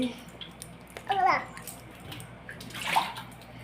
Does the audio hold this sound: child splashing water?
yes